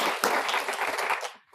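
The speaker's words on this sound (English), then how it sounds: "ask for a brief round of applause for all of the wonderful people who made this possible" Short burst of audience applause at an event on art and craft labor, a dense wash of hand claps lasting under two seconds before thinning out at the end.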